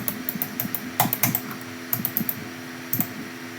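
Sharp, close clicks of a computer mouse, tapped rapidly in uneven bursts while playing Minecraft, against a steady low hum.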